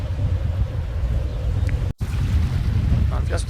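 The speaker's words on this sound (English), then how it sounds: "at the moment it's blowing about 20 knots" Strong wind of about 20 knots buffets a sailing boat cruising off Whitehaven Beach, a steady low roar across the whole stretch, broken by a brief dropout midway, with faint water and rigging noises on top.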